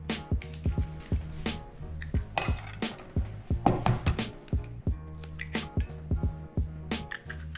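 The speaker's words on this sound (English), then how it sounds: "So you're going to break both of the eggs into the bowl." Eggs are cracked into a bowl for muffin batter: a series of sharp taps and clinks against the bowl alongside wet squishy drips, close and clear with no talking.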